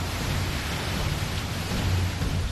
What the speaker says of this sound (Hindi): यहां भारी बारिश से सरयू का पानी प्रचंड रफ्तार के साथ बागनाथ मंदिर के पास आ चुका है।